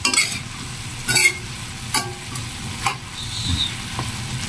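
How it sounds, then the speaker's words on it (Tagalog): Chicken feet bubbling and sizzling steadily as they boil in a pot, with a few sharp clinks of a utensil stirring. "So kumukulo pa siya para lumambot ng gusto yung paa ng manok."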